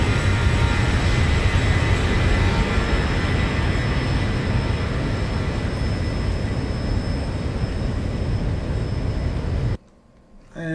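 Aircraft engine roar from a flight simulator flyby, a loud, steady broadband drone with tonal whine holding nearly ten seconds before cutting off abruptly to near silence.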